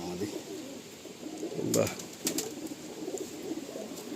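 Pakistani pigeons coo in a crowded loft, a soft steady murmur of calls with a brief flutter of wings midway; someone speaks briefly over them.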